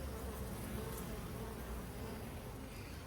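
Honeybees droning at an open hive during an apiary inspection, a dense continuous buzz of many insects close by, even and unbroken throughout.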